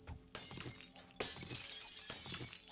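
Glass shatters repeatedly in the zombie survival game 7 Days to Die, with several sharp crashing bursts followed by tinkling debris, fairly quiet overall and with no talking.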